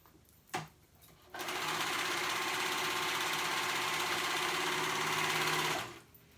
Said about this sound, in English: I'm going to go ahead and sew that gap that I left, my 2-inch gap, I'm gonna sew it closed.